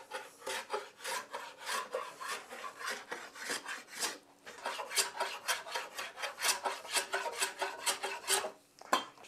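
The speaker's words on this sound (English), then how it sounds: "I'm going to use a small block plane to do that." A small block plane beveling the edge of pallet wood, close rhythmic rasping strokes in quick succession with brief pauses, no voices over it.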